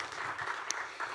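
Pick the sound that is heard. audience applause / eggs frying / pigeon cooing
audience applause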